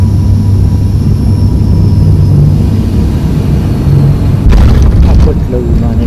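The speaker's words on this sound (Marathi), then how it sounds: "आपटलं विमान एकदाचं धावपट्टीवर" Small passenger airplane landing on a runway: a loud, steady engine and airframe roar fills the cabin, with a sharper jolt of rumbling noise near the end as the wheels touch down.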